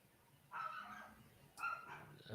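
Schnoodle dogs yapping and barking in short, high-pitched bursts, two separate flurries of barks and yips heard at a moderate distance indoors.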